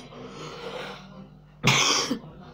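A person gives one sharp, loud cough after a stretch of quiet background sound, while playing Temple Run 2.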